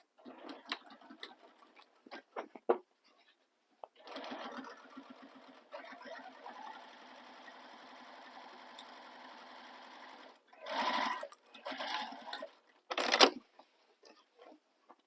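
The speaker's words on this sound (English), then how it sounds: "And now we're going to top stitch the base along the long edges here using the seam allowance given in the pattern." A sewing machine top stitches along the long edges of a crossbody bag base in a steady whirring run of several seconds, followed by two shorter bursts, all close and fairly quiet.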